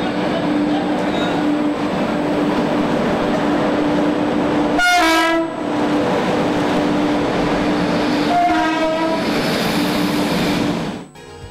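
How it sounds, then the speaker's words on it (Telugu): A double-decker passenger train on the Bangalore–Chennai line rumbles loudly close by, with steady wheel and carriage noise broken by two long blasts of the train horn. "బెంగళూరు, చెన్నై మధ్య డబుల్ డెక్కర్ రైలును విజయవంతంగా నడిపారు."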